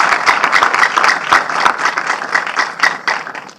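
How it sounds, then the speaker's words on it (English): A studio audience claps at the close of a Nigerian TV quiz show, with loud, slightly uneven hand-clapping that swells and dips in bursts throughout before tapering at the end. "Rounds of applause."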